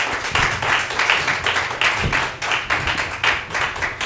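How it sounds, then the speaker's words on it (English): Audience applause at a cast-and-crew Q&A, close and steady clapping from a small crowd that pulses evenly throughout without fading. "Nice round of applause for them."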